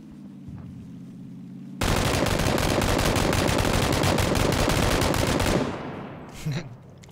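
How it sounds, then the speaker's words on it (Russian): Sustained machine gun fire in a video game, a loud dense burst of rapid shots lasting about four seconds after a quieter opening, then fading with a brief faint sound near the end. "Пулемет гейминг."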